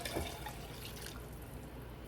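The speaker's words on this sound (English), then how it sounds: "I'm going to add 6 cups of chicken broth" Chicken broth is poured into a soup pot of kale and sausage soup, a soft steady liquid splash and trickle heard close and quiet for a couple of seconds.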